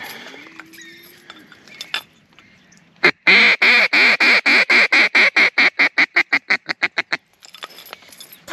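A rapid series of loud, repeated wild mallard duck quacks bursts out after a quiet stretch, about twenty calls in a steady rhythm, close and prominent.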